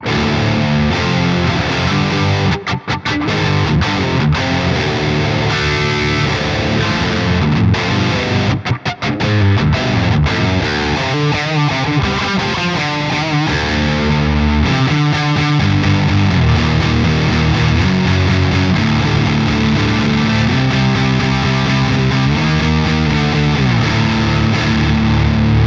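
A heavily distorted electric guitar through a high-gain amp simulation chugs through thick, saturated riffs and chords, loud and sustained, with brief stops between phrases.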